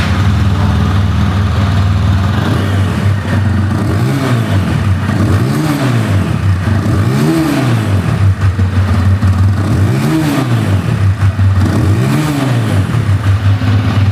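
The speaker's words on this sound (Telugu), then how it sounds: "దీనికి ఎగ్జాస్ట్ నోట్ ఒకసారి వినిపిస్తాను" A 2024 TVS Apache RTR 160 2V Race Edition motorcycle idles close by, its single-cylinder exhaust thumping steadily, then is blipped through about five quick revs that rise and fall at regular intervals; no voices.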